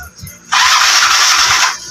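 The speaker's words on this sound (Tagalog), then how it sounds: "Ang issue ng kanyang motor mga padreng, puro redondo lang. Pero ayaw magtuloy ng andar." A Yamaha Mio Sporty scooter's push-button starter cranks loudly and steadily for over a second without the engine catching, then cuts off, heard up close.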